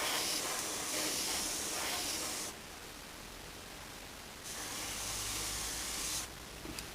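Airbrush spraying paint and air over a model, a steady close hiss that drops off briefly and resumes, ending in short bursts.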